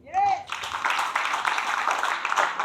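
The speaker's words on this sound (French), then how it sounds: "Applaudissez d'abord pour lui." Audience applause fills a plenary session hall at the DNE 2024 event of JFN HighTech University Institute: a brief voice at the start gives way to dense, sustained clapping from a crowd that holds steady and fairly loud to the end.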